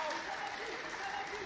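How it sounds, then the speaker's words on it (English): Arena crowd roaring during a grappling exchange at a multi-discipline combat sports event, a steady, dense wash of cheers and applause with some voices mixed in and no break. "the crowd is making noise"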